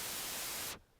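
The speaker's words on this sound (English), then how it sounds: "How to do a noise riser." White noise riser sweep, a hissing wash of broadband noise that holds loud and steady, then cuts off abruptly near the end into faint low residue.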